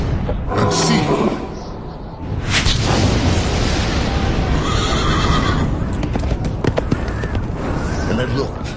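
A horse neighs loudly in a dramatized reading of Revelation, a long shrill whinny with hoofbeats and rumbling booms beneath it, full and close in a dense, layered soundscape.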